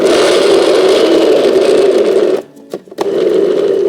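A blender whips frozen banana into chocolate ice cream with a loud, steady motor whir that briefly dips and stutters before resuming at full strength.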